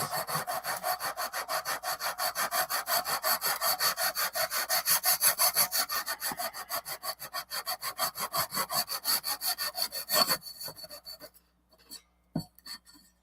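StewMac fret leveler filing guitar frets with the strings left on, a rapid rhythmic rasping of back-and-forth strokes, close and steady for about ten seconds before it stops, followed by a couple of faint clicks.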